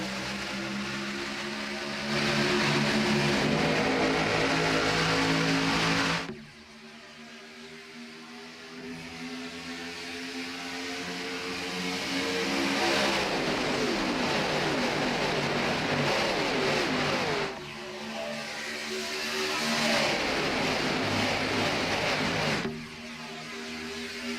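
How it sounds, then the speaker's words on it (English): A 44-car field of race car engines roaring around Daytona in a racing video game, a dense, continuous drone that swells and fades in long waves as the pack passes, loud and close, with no talk. "A field 44 deep rumbles down the Daytona super stretch and climbs the banking into turns 3 and 4 for the first time."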